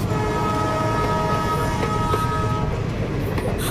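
A train pulling away, with a steady rolling rumble and a sustained horn-like tone, fairly loud and continuous throughout.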